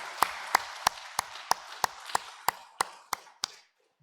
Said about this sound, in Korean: 모두 환영의 큰 박수로 맞이하도록 하겠습니다